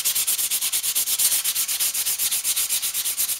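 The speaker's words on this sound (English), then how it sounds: "you can see very light sanding. Just remove the excess filler" Light sandpaper rubbing over filler on a model rocket body, a steady rapid back-and-forth scratching with even strokes of about eight per second, close and continuous with no voices.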